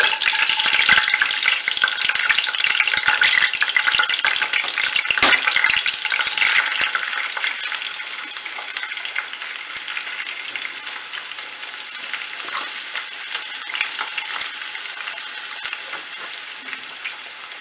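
Onions crackle and sizzle in hot oil for a Kerala-style mussel roast, a loud, close, continuous frying hiss that starts busy and gradually settles, with occasional stirring and no talking.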